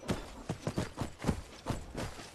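Horse hooves clip-clop in a steady trotting rhythm in the Skyrim video game, about six or seven close, distinct thuds on the ground, with no talk.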